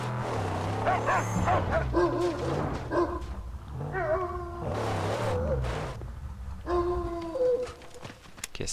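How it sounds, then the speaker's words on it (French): A dog in a video game barks in repeated short yelps and whimpering bursts, fairly close and clear, with occasional gaps between outbursts. "Il aboie à gauche là."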